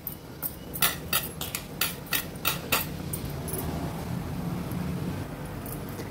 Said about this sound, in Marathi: व्यवस्थित मी ह्याच्यामध्ये हे पसरून घेते